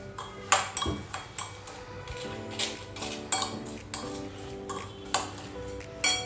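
Chopped apple is stirred into sugar in a bowl for fruit shrikhand, giving repeated close metallic clinks and taps of a spoon against the vessel in an irregular rhythm with short pauses between strokes.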